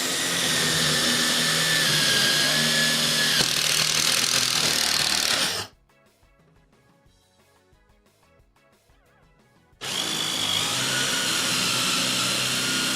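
A power drill bores into a wooden board with a loud, harsh whir, stops for a few seconds of quiet, then starts up again.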